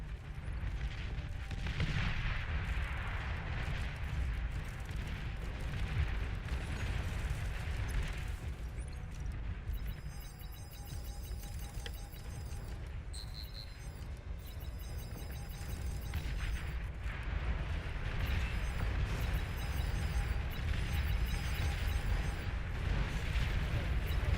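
Continuous heavy rumbling explosions and artillery fire from the strategy video game Beyond All Reason as an enemy commander is destroyed, a dense, loud barrage of booms and crackling blasts sustained throughout.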